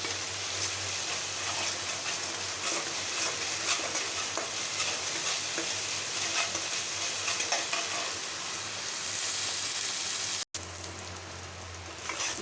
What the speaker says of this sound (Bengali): পেঁয়াজ রসুন আদা বাটা ভাজা হয়ে গেল।